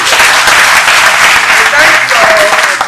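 Dense, loud applause from a crowded audience at a gathering, steady clapping throughout with voices faintly mixed in beneath.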